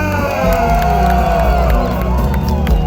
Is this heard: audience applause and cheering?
yes